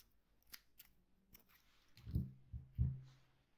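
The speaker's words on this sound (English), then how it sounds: "tighten and cut your yarn." Scissors snip through yarn while finishing a crocheted ribbed sweater: a few faint ticks, then two or three close, crisp cuts.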